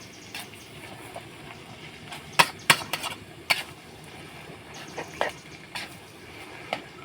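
Stir-frying Mama instant noodles with egg and pork in a pan, with a soft steady sizzle under sharp intermittent clinks and scrapes of a utensil against the pan.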